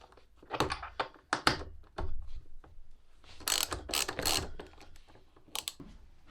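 A small ratchet wrench works bolts on a KTM 1290 Super Adventure R motorcycle, producing bursts of quick close clicking in short irregular runs separated by brief pauses.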